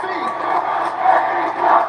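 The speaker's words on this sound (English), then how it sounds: "listen to this crowd. Newark, New Jersey is on its" Arena crowd at a wrestling event in Newark, New Jersey, a dense, continuous roar of cheering spectators that swells slightly, heard at full volume from within the venue.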